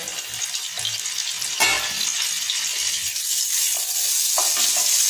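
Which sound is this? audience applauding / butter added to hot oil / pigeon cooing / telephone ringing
butter added to hot oil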